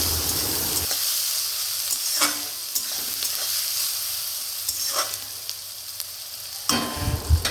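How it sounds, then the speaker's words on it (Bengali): Chopped onions seasoned with turmeric and salt sizzle loudly in a pan, the hiss constant while a spoon stirs and scrapes in several distinct strokes, no one speaking. "এবার মা পেঁয়াজ কুচিগুলো সব দিয়ে দেবেন। একটু নাড়াচাড়া করে নিয়ে হলুদ আর লবণ দিয়ে আর একটু নাড়াচাড়া করে নেব।"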